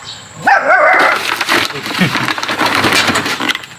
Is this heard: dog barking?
yes